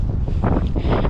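Strong wind buffets the microphone outdoors at Hawthorn Dene, a loud, continuous low rumble with gusty swells and no other sounds.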